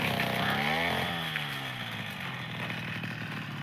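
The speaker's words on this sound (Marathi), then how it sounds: "कटरचं काम चालू आहे." A brush cutter clearing undergrowth on a cashew farm, its two-stroke engine revving high then settling into a steady, loud drone that fills the whole stretch.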